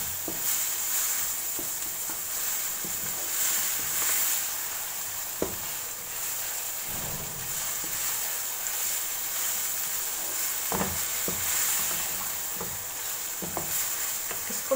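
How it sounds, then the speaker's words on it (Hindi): Minced keema frying in a pan for aloo keema, a steady close sizzle with occasional stirring scrapes and light clicks throughout. "ये देखें कीमा बहुत अच्छा सा फ्राई हो गया है"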